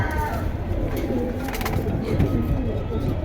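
Pigeons coo softly and repeatedly at a market selling pigeons, their low calls mixed with crowd murmur and nearby voices.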